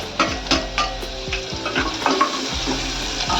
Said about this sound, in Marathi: आपण आता ते कांदा टाकूया थोडंसं बारीक फोडण्यासाठी ठेवले